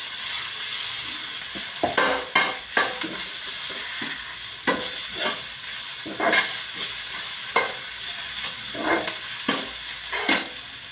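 Garlic and cumin frying with a spice mixture in a pan, a continuous sizzle broken by repeated scraping strokes of a spoon stirring at an irregular rhythm.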